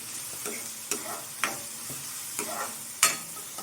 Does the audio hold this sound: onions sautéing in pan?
yes